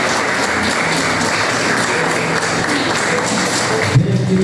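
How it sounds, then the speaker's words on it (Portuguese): A church congregation claps for Jesus in dense, steady applause that fills the space, with a brief voice breaking in near the end. "Uma salva de palmas para Jesus."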